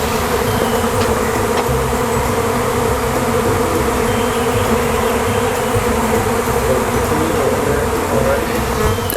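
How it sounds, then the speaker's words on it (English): A huge swarm of honey bees buzzes loudly around the front of a hive as they land on nearby trees and bushes, a dense, continuous, close drone with no speech. "Look at, I got bees landing on me because they know this is the area that they need to be in."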